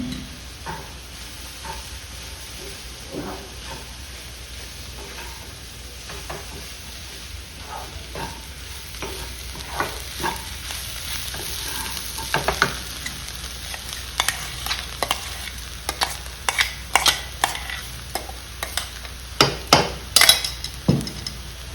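Boiled carrots, beans and peas fry in a pan as grated coconut goes in: a soft, continuous sizzle with spatula knocks and scrapes that grow louder and more frequent toward the end, no voices.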